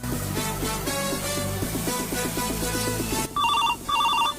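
A telephone ringtone plays loudly over a steady melodic pattern, then switches to two short bursts of bright electronic trilling, with no talking.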